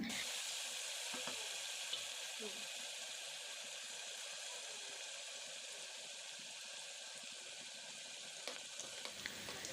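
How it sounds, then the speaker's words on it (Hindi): Biryani masala and coriander powder frying in a pan for a chicken biryani, giving a steady, close sizzle with soft crackles that runs unbroken for the whole stretch. "अब हम डाल रहे हैं बिरयानी मसाला और धनिया पाउडर। इनको भी डाल के हम इसको भून लेंगे।"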